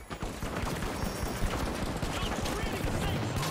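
Rapid gunfire in the shooter game The Finals, dense crackling bursts of shots mid-distance that run almost continuously, with a player talking over them.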